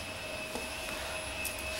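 A vacuum cleaner runs steadily somewhere in the background, a constant faint whirring hum with no speech.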